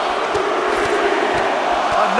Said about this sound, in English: The sound of this crowd is deafening,